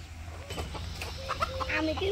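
Farmyard chickens in rural Bangladesh give a few soft clucks and rising calls nearby, growing busier toward the end, with a faint human voice in the background.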